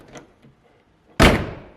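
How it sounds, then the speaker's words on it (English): A faint brief knock, then a single solid car door slamming shut near the end, loud and close with a short fading tail. "Doors close nice."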